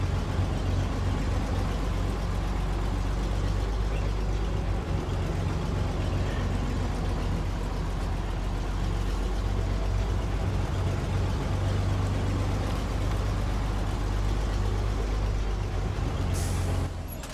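A White Western Star off-road truck in a video game, hauling two metal beams on level ground, with a steady, loud, low engine drone held throughout under load and a hiss near the end.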